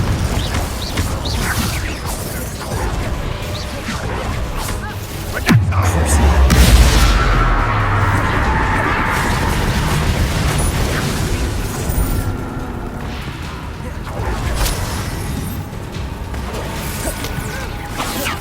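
An incendiary blast bursts in the Hogwarts Legacy video game, a deep rumbling boom swelling up midway through a busy mix of mechanical game sounds and faint voices.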